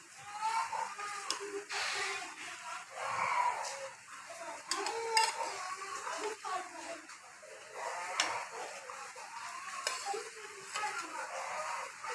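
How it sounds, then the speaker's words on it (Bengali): Fried koi fish slid into a simmering mustard curry with potatoes, giving a steady soft bubbling sizzle with scraping spoon stirring throughout, close and continuous. "এখন আমি এতে দিয়ে দিব ভেজে রাখা মাছগুলো"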